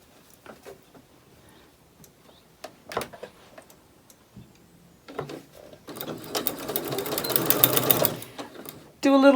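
A sewing machine stitches close to the edge of a fabric-scrap keychain fob, starting with scattered clicks and ticks, then running in a steady loud whir for a couple of seconds before stopping.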